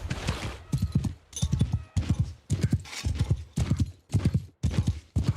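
Rapid clip-clop of horse hooves galloping in the medieval combat game Warsails, steady and close throughout with a brief whinny and light voice sounds mixed in.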